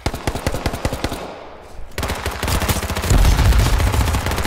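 Rapid automatic gunfire in the battle royale game H1Z1, a fast rattling burst, a brief gap, then another sustained spray with heavier booming shots near the end, loud and close.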